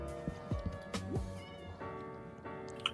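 A cat in Minecraft meows a few times in short, drawn-out calls over a faint tonal background, fairly close and clear.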